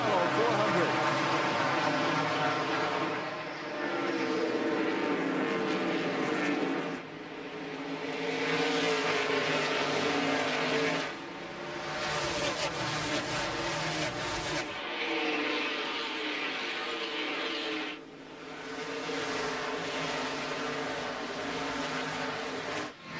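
NASCAR stock cars racing at Richmond in the 2001 Chevy Monte Carlo 400, loud engine roar rising and falling in waves as packs pass, with a crowd and announcer-like voices mixed underneath.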